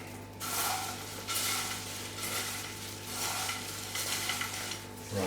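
Orchid potting medium for a cymbidium being mixed by hand in a kitchen, a dense gritty rustling and crunching that comes in repeated surges over a low steady hum.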